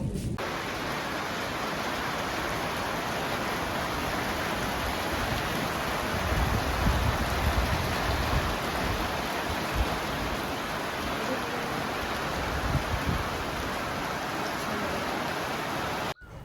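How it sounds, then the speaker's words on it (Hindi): Steady heavy rain pouring down in the Uttarakhand hills, a dense continuous hiss that holds evenly throughout with no voices. "बारिश होने लग गई है और अभी भी आप देख सकते हैं कि पीछे बारिश हो रही है"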